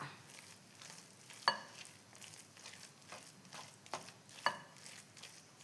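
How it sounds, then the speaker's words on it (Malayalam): Rice flour is stirred in a pan for Kerala ela ada, making quiet scraping strokes in a loose rhythm over a faint sizzle, with two small sharp clinks of the spoon against the pan. "അരിപ്പൊടി ഇട്ടിട്ട് ഇളക്കി കൊടുത്തുകൊണ്ടിരിക്കുക"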